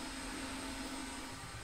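A Bambu X1C or P1P 3D printer running with a steady, loud, buzzing hum like a bee, unchanging throughout and with no one talking.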